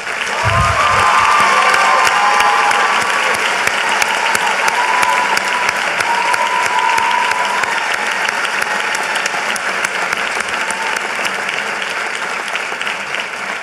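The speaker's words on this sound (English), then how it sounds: "Please give a hearty round of applause." Sustained applause from a large crowd at a college commencement, steady and loud throughout, with a few faint voices mixed in.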